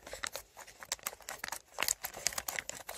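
Irregular crinkling and snipping noises of scissors cutting open a plastic blind box figure bag, close up with no voices.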